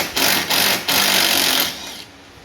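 A power tool whirs in three short bursts, loud and close, while backing 10mm bolts out near the headlight of a Jeep Wrangler JL, the last burst trailing off into a quieter spin-down.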